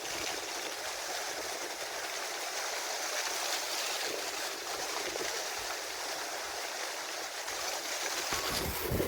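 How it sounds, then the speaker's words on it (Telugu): A musical water-dance fountain show at Mysore gives off a steady, dense hiss and rush of falling water, loud and continuous like a stream or spray, with no voices. "ఇది వాటర్ డ్యాన్స్."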